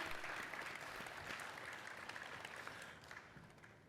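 Sustained applause from an audience honoring athletic directors at a Fulton County Athletics media day, steady broadband clapping that thins slightly toward the end, with no voices over it.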